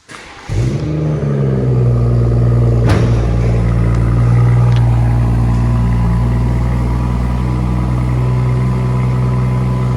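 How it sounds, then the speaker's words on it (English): A BMW 440i M Sport coupe's six-cylinder twin-turbo engine fires up and settles into a loud, deep, steady idle close by, with a short blip early on. "A lovely sound from that 6-cylinder engine with its twin-power turbo."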